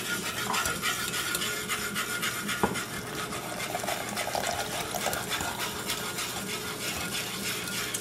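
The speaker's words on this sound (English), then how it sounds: "we have all the ham juice in there, and then we're going to mix the cornstarch, and we're going to thicken this up real nice" Cornstarch stirred into hot ham juice in a pot on a stove turned up high: a steady close scraping and sloshing swirl that continues for several seconds, with no one speaking.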